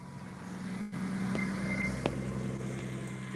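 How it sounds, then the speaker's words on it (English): Race cars rumble past at a Combe Challenge race day, a steady low engine drone with a brief tonal whine rising midway, heard at moderate distance with no talk. "the rumble of the cars going past us"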